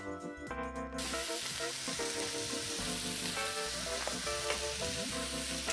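Chicken sizzling and frying in a pan for green curry, a loud steady crackle with some stirring, close and continuous with no talk.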